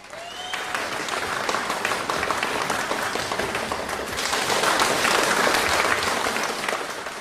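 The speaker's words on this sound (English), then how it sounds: "Let me hear you give a round of applause" Sustained crowd applause at a Guyana independence festival, a broad outdoor roar of clapping that swells louder toward the end and stays continuous throughout, with no speech on top.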